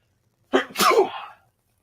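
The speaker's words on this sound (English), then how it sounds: "I'm going to sneeze." A single loud, close sneeze during spring allergy season: a sharp intake followed by an explosive burst, alone in an otherwise quiet room.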